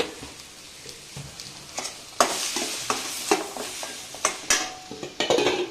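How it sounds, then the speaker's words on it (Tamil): Onions sautéing with homemade curry powder for salna, a soft sizzle punctuated by repeated scraping and tapping of a spoon against the pan. "அப்படியே கொஞ்சம் வீட்டு குழம்பு பொடி அதுவும் கொஞ்சம் போட்டுட்டு வதக்கிடணும்"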